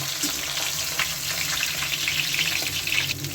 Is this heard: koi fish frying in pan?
yes